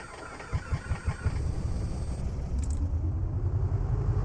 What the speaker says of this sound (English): And we'll get ready to start the right engine